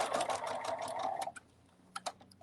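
A sewing machine sews a soft minky bunny toy with a fast rapid needle patter for about a second, then stops, followed by a few faint clicks and taps nearby.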